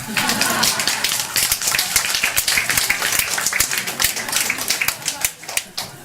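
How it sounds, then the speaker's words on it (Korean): An audience at a presidential candidates' gender-equality policy forum breaks into brisk, dense clapping that keeps going, then thins into scattered claps near the end. "박수 안 치십니까?"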